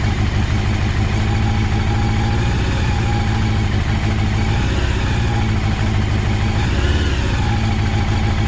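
A Honda CBR 750 Hurricane motorcycle engine runs at a steady idle on its first start in three years, with a loud, continuous, even mechanical burble close to the bike.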